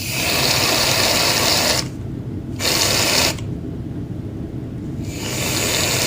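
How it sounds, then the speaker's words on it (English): Cheap Target shaving cream hisses steadily from an aerosol can for fluffy slime, loud and close, cutting off twice in brief pauses before the spray resumes. "This is cheap Target shaving cream, and we're just gonna YOLO it"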